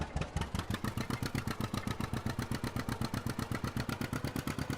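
A motorcycle engine runs close up with a steady, rapid, even thumping beat and no voices.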